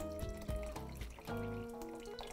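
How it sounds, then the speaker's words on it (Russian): Boiled water pours steadily into a pot of Italian soup with meat and lentils, a continuous splashing, gurgling stream heard close up for a couple of seconds. "Добавляю сюда кипяченой воды"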